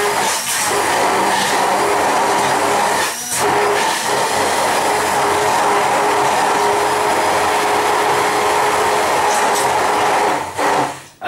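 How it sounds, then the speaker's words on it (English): A blender whirs through a fruit smoothie of greens and oil, a loud continuous grinding roar held for several seconds at a time, with brief dips where the motor pauses. "And it's just literally 30 seconds on the blender."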